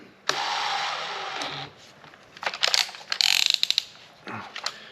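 Power drill with a 1/8 inch bit boring into a new steel truck frame rail, a steady grinding whine for over a second, then a burst of rapid ratcheting clicks and a few shorter bursts, close and fairly loud.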